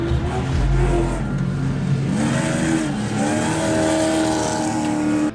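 A race truck's engine revs hard and steadily after a cleared injector, its rising and falling harmonic whine loud and continuous throughout with no talk.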